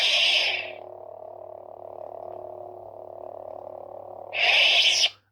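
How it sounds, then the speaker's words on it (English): A Darth Vader sound font on a Qui-Gon trickshot lightsaber: a bright ignition burst, then a steady low electric hum held for several seconds, ending in a loud retraction crackle, with no talking. "And that's going to be Vader's sound font."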